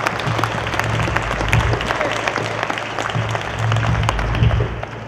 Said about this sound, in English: one thing I would love to give this young man, a round of applause from everybody